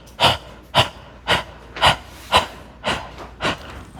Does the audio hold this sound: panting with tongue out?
yes